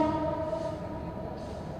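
A passing train heard faintly at a distance, a low steady rumble with sustained tonal horn-like bands running throughout, no speech over it.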